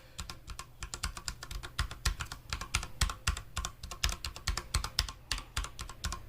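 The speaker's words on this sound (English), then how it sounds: "he's going to tap the keys so you can get a sound test" Typing on a Durgod Taurus K320 Nebula mechanical keyboard, a steady run of fairly dull, muted keystrokes close to the microphone with no talking.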